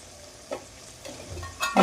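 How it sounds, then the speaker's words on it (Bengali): A spoon scrapes and stirs chicken kosha with garam masala in a pan, giving a few soft clinks and light sizzling that build to a louder stir at the end. "গরম মশলা দিয়েছি আমি একটু নাড়িয়ে চাড়িয়ে দিলাম যাতে সব চারিদিকে ছিটিয়ে যায়"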